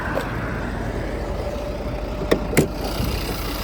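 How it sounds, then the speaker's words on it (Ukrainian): A Volvo V50 D3 five-cylinder diesel engine, unwashed, idles steadily under an open bonnet with a smooth, even drone and a couple of brief clicks partway through; no one speaks. "Ось так у нас працює двигунчик, двигун не митий"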